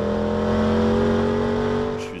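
A yellow 1964 race car runs flat out in fourth gear down the Le Mans straight. Its engine holds a loud, steady droning note from close by before easing slightly at the end.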